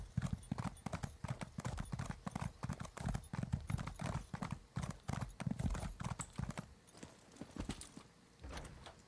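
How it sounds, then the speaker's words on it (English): Horse hooves clip-clop in a quick, steady rhythm while a horse is ridden in a video game, close and clear with no talking over them. "I'm pleased to be able to ride Ace now on a regular basis"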